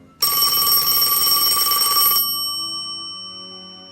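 A telephone bell rings once, loud and close, with a bright metallic clatter for about two seconds before the ring decays into a lingering tonal hum.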